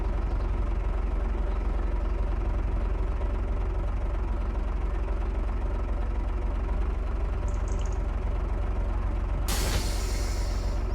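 A truck in Farming Simulator 25 idles with a low, steady engine rumble, then its air compressor or air brake releases a sudden sharp hiss near the end.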